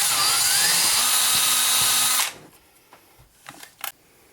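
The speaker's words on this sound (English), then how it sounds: "once you get your Nock drilled out" Power drill whirring loudly as it bores out the nock of an Easton Axis arrow, a steady high-pitched spin for about two seconds, then stopping, followed by faint clicks and handling noises.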